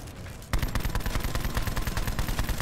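Rapid automatic gunfire from a zombies video game, a dense burst of shots erupting loudly after a brief lull and continuing in a steady rattling stream until the ammo runs out.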